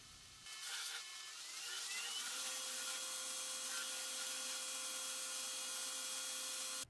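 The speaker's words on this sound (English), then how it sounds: "I'll also grind the front faces of the scales using the adjustable table angle." A grinder works the front faces of micarta knife handle scales on an adjustable angled table, giving a steady, close, loud whirring hiss with a sustained motor tone that runs unbroken throughout.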